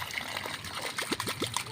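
Water trickles and runs away softly while plants are being watered, a faint, uneven dribble with a few small gurgling splashes near the end. No voices.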